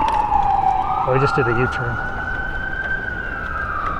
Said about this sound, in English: this ambulance is trying to find a patient